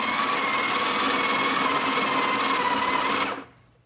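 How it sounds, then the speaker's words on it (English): An electric grinder whirs steadily while grinding espresso beans for homemade espresso, a loud continuous high-pitched motor drone close by that cuts off abruptly near the end, with no talking. "Grind a few more beans into there."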